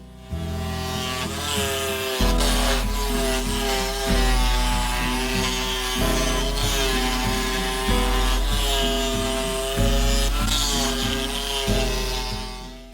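A jigsaw mounted in a homemade jigsaw table cuts wood for a DIY Christmas tree, its loud, steady motor whine rising and dipping in a regular rhythm of cutting strokes about every two seconds.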